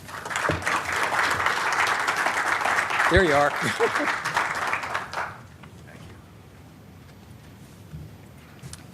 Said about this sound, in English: You never want the clapping to stop before you get up to the stage.